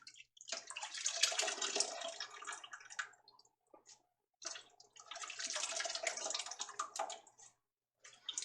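Blanched kale is lifted out of a pot of hot water, giving two long spells of splashing and pouring water close by, separated by short quiet gaps.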